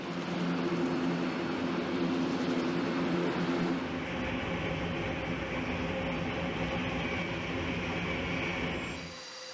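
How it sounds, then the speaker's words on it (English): A four-engine turboprop military transport aircraft drones loudly and continuously. A low, heavy engine rumble with a broad roar fills the whole stretch and eases slightly partway through, with no voices. "This four-engine turboprop military transport aircraft is 148 feet long and has a wingspan of roughly 139 feet."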